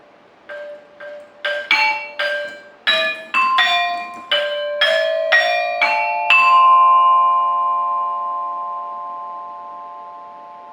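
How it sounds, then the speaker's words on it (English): A saron, a metal-plate gamelan instrument, struck in a slow sequence of about a dozen ringing notes, each bright tone overlapping the last, then one long sustained ring fading slowly. "the effect of this technique will be better if we keep the plate ringing for a long time"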